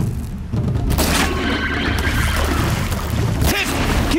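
Weapon fire and explosions in the video game Horizon Zero Dawn: heavy booming blasts and crashing impacts, with a loud burst near the start and another sharp hit toward the end over a dense, rumbling battle roar.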